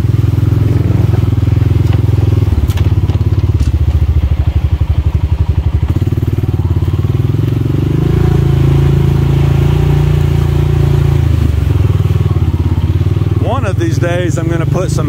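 A Honda TRX250X ATV crawling through a rocky creek, its engine holding a steady, loud, close drone with low rumble and occasional clatter over the rocks, and a voice talking over it.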